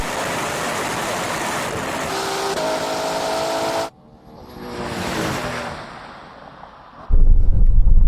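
A Ferrari Purosangue accelerates hard in a drag race, a loud sustained engine roar with rising gear tones that cuts off abruptly, followed by a fainter distant rush and then a burst of close wind noise.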